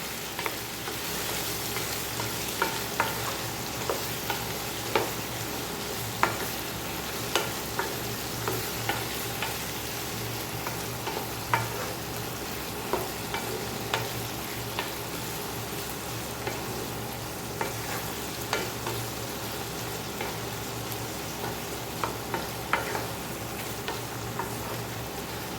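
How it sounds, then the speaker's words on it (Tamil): Prawns sauté in a hot pan with a constant hiss of frying and frequent light clicks and scrapes of stirring throughout, close and steady with no voices. "எறாவை போட்டுடலாம். எறா நல்லா வதக்கிடலாம்."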